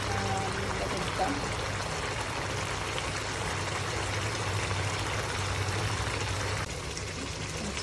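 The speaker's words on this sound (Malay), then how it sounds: "Saya nak tambah air panas sikit ya" Hot water pours steadily into a pot of cooking black-sauce beef for nasi kandar, a continuous close splashing stream lasting several seconds before easing slightly near the end.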